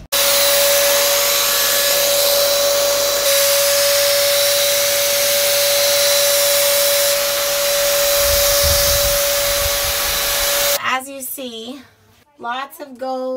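A paint spray gun lays thick paint inside an old Class A RV under renovation, giving a loud, steady airy hiss with a constant whine for about ten seconds before it stops and people talk.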